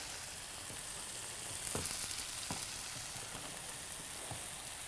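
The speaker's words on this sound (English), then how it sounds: "Vegetables frying." Vegetables sizzle steadily in hot oil in a deep fryer, a constant close crackle with a few louder pops and spatters.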